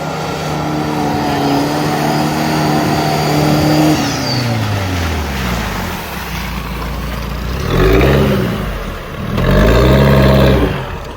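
Off-road SUV engine revving hard as it climbs out of a deep mud bog, loud and close, with a steady drone that swells into two strong rising revs toward the end.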